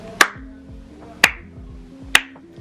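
Three sharp, evenly spaced hand claps or snaps, loud and close, each a crisp single crack over a quiet background of soft tones.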